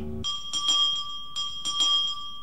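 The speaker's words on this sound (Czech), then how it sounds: "Někdo zvoní." A doorbell rings in a Czech Sherlock Holmes audiobook production, a clear bright electric bell sounding in repeated ringing bursts with short gaps between them, alone without narration.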